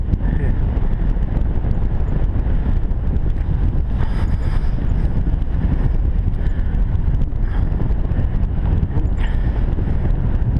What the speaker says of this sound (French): Le vent qui vient buter là.